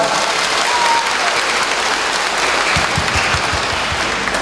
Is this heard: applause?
yes